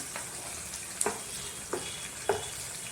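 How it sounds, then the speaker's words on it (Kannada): Onions frying in oil in a pan give a faint, steady sizzle broken by a few soft clinks of stirring. "ಈರುಳ್ಳಿ ಫ್ರೈ ಆಗುತ್ತೆ."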